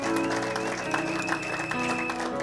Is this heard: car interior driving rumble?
no